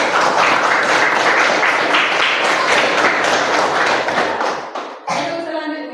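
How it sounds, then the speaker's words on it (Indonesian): A classroom of students claps hands together in a sustained, dense burst of applause that fills most of the moment, then breaks off abruptly, leaving a brief quieter tail. "tepuk tangan ya."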